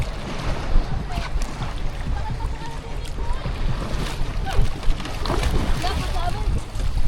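Strong wind buffets a boat on open water, a rough, continuous roar with splashing and rumbling, loud and close, while people talk over it.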